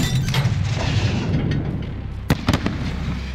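A grenade goes off in Call of Duty: Modern Warfare amid continuous rumbling battlefield noise, with a sharp crack and a couple of quick bangs near the end.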